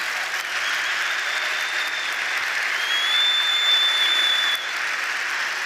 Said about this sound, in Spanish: Fuerte aplauso para ellos, por favor.